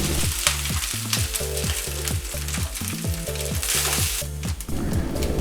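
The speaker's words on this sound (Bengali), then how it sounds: "ভাত ভেজে নিলাম।" Cooked rice fries in a pan of oil with fenugreek seeds and dry red chilli, giving a loud, steady sizzle with stirring scrapes over a rhythmic music beat.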